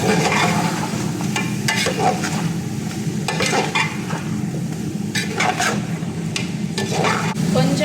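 Chicken with salt being stirred in a hot pan: a steady close sizzle runs throughout, broken by repeated scraping and clinking strokes of a spoon against the pan at an uneven pace.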